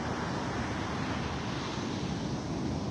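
Coastal beach with waves rolling in under steady wind, a continuous broad roar of surf and gusty air buffeting close to the microphone.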